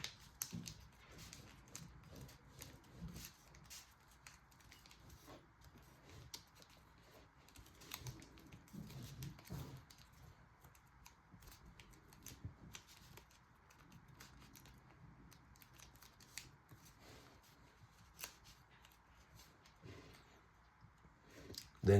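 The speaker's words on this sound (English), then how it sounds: "swivel all those pieces of paper up." Paper pieces for a paper model of an interceptor being folded and swiveled by hand, giving soft irregular crinkles, taps and rustles up close throughout, with no talk.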